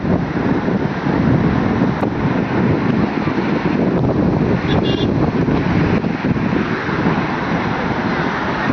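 Sea waves surge onto the shore at Gangasagar in a steady, loud broadband roar, with wind buffeting the microphone throughout and no clear break between the waves.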